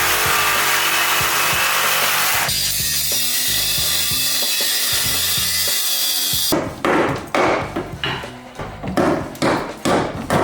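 A cutting tool grinds through a rusted bolt on an old childhood truck with a loud, sustained whine. It then breaks into a series of short, rhythmic ratcheting or sawing strokes.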